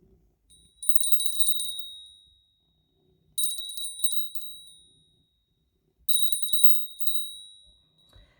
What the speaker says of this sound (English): I'm going to ring a bell, clear the air, clear my mind, clear my thoughts.